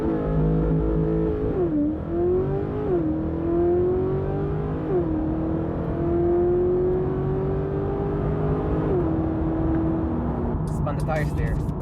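A supercharged Cadillac Escalade engine revs and climbs through several gear changes as the tires spin, loud and steady, with a rising supercharger whine; a voice talks briefly near the end.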